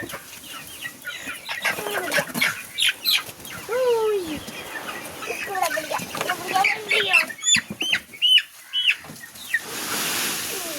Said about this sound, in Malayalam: കോഴിക്കുഞ്ഞുങ്ങളെല്ലാം ഇതിലേക്ക് ഇട്ടിട്ടുണ്ട്